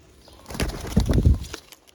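Pigeons coo and flap their wings close by in a short burst of fluttering and soft calls, rising in the middle and fading out, with no talk.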